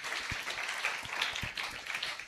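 Applause from a church audience, a dense steady wash of many hands clapping throughout, fairly close and continuous without pauses.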